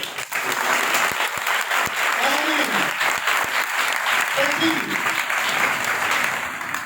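A church congregation claps together during a sermon on gifts of the Holy Spirit, with loud, rhythmic, sustained clapping and voices rising faintly through it.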